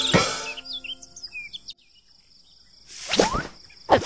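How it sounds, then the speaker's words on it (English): Cartoonish birds in the Little Panda's Farm game chirp in quick, bright tweets near the start and again near the end, with a quiet gap between, alongside playful game sound effects. "Birds will destroy the plants."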